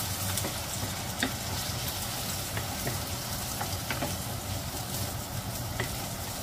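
Onions and garlic frying in a pan over medium-high heat, a dense continuous sizzle, close and fairly loud, with occasional stirring clicks and no talk.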